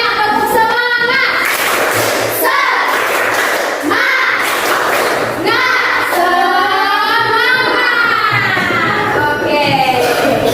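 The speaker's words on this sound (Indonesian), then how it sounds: "Oke, semuanya tepuk semangat" Fourth-grade schoolchildren in an Indonesian primary classroom do rhythmic spirit clapping, loud and close, with bursts of hand claps mixed with children's shouting and chanting voices throughout.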